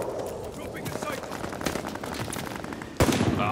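An MP40 submachine gun firing in a video game, fast rattling bursts under agitated player chatter, ending in a sudden loud blast near the end.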